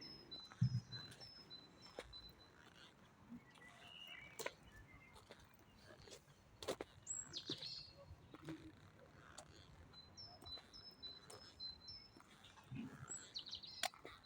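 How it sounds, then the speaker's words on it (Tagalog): Small birds in a rose garden in Hungary chirp repeatedly in faint, scattered bursts over quiet outdoor ambience, with occasional soft handling noises. "Yan, may ibon."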